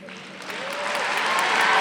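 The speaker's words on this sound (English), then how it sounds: "I want to hear a real loud applause for a great men's soccer team and chess team" Commencement crowd breaks into loud applause for the men's soccer and chess teams, clapping swelling steadily from a start over a fading voice to a full, dense roar.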